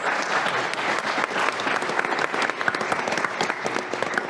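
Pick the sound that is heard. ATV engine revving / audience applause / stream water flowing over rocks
audience applause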